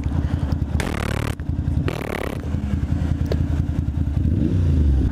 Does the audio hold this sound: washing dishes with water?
no